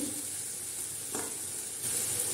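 Pointed gourd, already fried, tumbles into a pan of sizzling potato masala, with a steady frying hiss throughout, a brief clatter near the middle and a louder sizzle toward the end.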